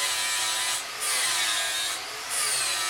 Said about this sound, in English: with a very fine abrasive disc on, and just polish the cutting edge